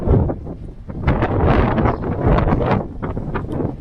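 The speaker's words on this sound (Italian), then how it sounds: "E guardate il vento che è qua lontano dal mare." Strong wind buffets the microphone in loud, rumbling gusts that rise and fall throughout, inland near a church on the Portuguese coastal walking route, with no one speaking.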